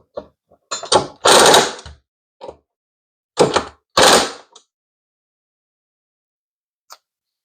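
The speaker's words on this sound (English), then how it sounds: "let me grab my impact and we'll get them tightened" An impact driver tightens the bolts on a bedroom TV wall mount in a few short, loud bursts, separated by stretches of silence.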